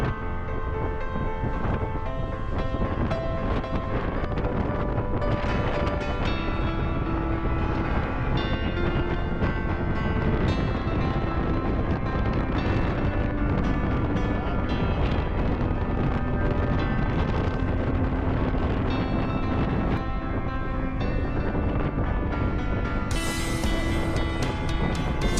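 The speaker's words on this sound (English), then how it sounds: "It is very cold and windy outside" Cold, strong wind buffets the open deck of a car ferry just out of port from Tallinn toward Helsinki, making a continuous, loud, rushing roar with no speech.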